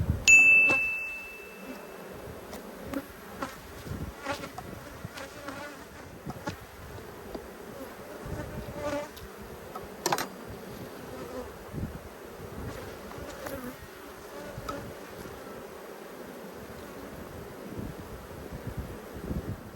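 Honey bees hum and buzz around a hive outdoors, a steady close drone with individual insects passing near the microphone, light wind and an occasional faint ding.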